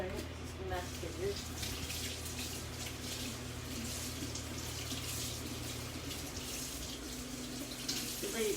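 A steady stream from a tap pours over a plastic shaker top being rinsed in a sink. The even splashing hiss runs the whole time at close range, with a low hum underneath.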